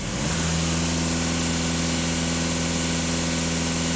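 A VW Golf 2.0 TDI diesel engine idles steadily with a loud, even drone, then holds a raised, constant hum as the revs come up, close and continuous with no voices.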